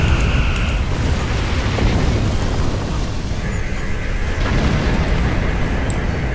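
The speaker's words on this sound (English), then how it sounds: "I'd kind of like to see you blow up now. Ooh, two quantum torpedoes." A starship explodes after a quantum torpedo hit in the space game Star Trek Online, a continuous loud rumbling blast with crackling bursts over its full length.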